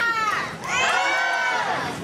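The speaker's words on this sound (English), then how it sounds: "We can tell by the size of your cheers that you people want more action!" Stage show audience at a celebration-of-life performance cheering and shouting in a short loud burst, voices swelling, dipping briefly, then surging again.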